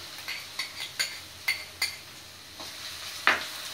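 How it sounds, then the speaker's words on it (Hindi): Onions fry in oil left over from frying paneer, a quiet steady sizzle for chole masala, punctuated by several sharp clinks and scrapes of a spoon stirring against the pan. "और प्याज को थोड़ा फ्राई होने देंगे"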